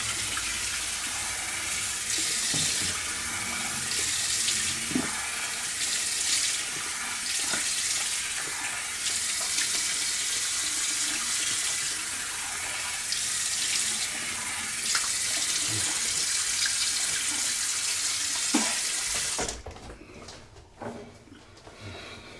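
A bathroom tap runs steadily as someone rinses off after shaving with a Remington foil shaver, a continuous close, fairly loud water hiss with small splashes, cutting off near the end to quieter drips and handling.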